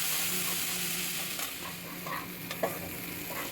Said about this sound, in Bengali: ব্যাস দিয়ে এটাকে আমি একটু ভালো করে একটু কষিয়ে নিচ্ছি